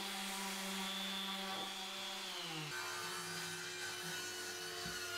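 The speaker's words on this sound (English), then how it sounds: "I give everything a rough sand down just to remove any glue squeeze out." A power sander gives a wooden lap desk a rough sanding to strip glue squeeze-out, its motor humming steadily and close throughout, with a brief shift in pitch partway through and no voices.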